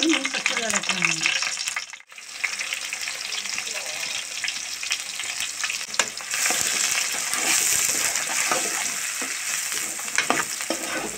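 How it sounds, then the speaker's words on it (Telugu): Green chillies frying in hot oil with cumin, loud crackling sizzle under a voice at the start, a brief dip, then a sustained busy frying hiss with stirring scrapes and pops. "ముందుగా పచ్చిమిరకాయలు వేస్తున్నానండి"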